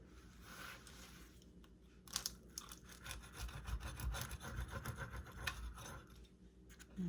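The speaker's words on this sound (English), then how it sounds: "we are going to now cut our pizza and cut it into 4 slices. You can hear the crispiness of the crust." A knife saws through the crispy crust of a low-carb personal pepperoni pizza, giving a close, quiet scraping crunch in uneven strokes that builds in the middle of the cut.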